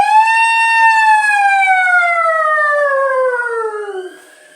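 A human voice imitates an ambulance siren with one long, loud, sustained wail that slowly falls in pitch and trails off near the end, with no other sounds.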